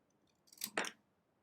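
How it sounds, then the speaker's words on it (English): Scissors slowly close and snip through a material in a short crisp cut of two quick crunching clicks, close and fairly quiet, with no talking. "I'm going to cut this. I'm going to slowly close the scissors"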